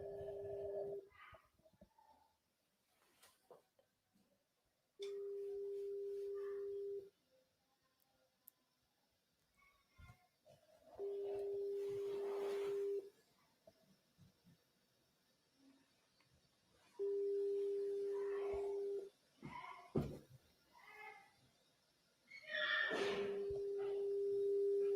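Phone call attempt to a distant interviewee: repeated steady busy-signal tones in regular bursts of about two seconds, separated by quiet gaps with faint clicks and rustling, no talking.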